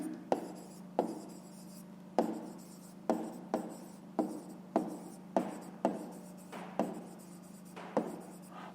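A pen writes a fraction on paper in a series of about a dozen short, regular scratching strokes, each with a sharp start, close by, over a steady low hum and without speech.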